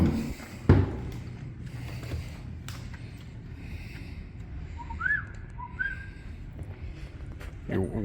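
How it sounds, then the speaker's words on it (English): A person at a campground whistles a few short, high notes to deer outdoors against a quiet background, with a faint thump near the start. "You're whistling to the deer?"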